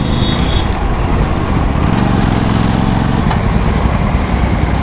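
A Royal Enfield Meteor 650 motorcycle engine runs with a steady, fairly loud low rumble throughout, with no clear revs and no speech over it.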